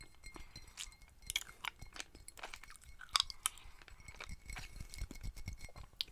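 Close, quiet chewing of green starlight mint candies, with irregular crunches, clicks and soft mouth sounds in an intimate ASMR setting, no speech.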